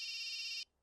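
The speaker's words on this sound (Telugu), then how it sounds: "ఫోన్ ఆఫ్ చేయొచ్చు కదయ్యా." A telephone rings during a Telugu film climax scene, a single bright electronic trill that cuts off abruptly after about two-thirds of a second, clear and alone with no talk.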